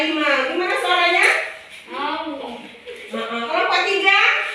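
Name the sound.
children imitating a tiger's sound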